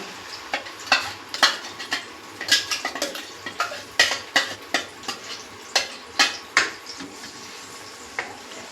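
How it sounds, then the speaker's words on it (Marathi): Freshly ground masala paste fried in hot oil in a pan, with a utensil scraping and clinking in a steady rhythm of close stirring strokes over a soft sizzle. "तेल गरम झालं त्या त्यामध्ये आपण जो मसाला वाटला होता ना तो टाकून घेऊया"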